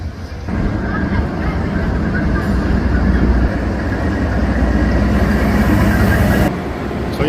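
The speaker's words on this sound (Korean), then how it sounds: "하노이행 열차가 서서히 들어오고 있습니다." Loud continuous rumble and hiss of a Hanoi-bound train rolling into a station close by, with a faint horn-like tone, then the noise drops off abruptly near the end.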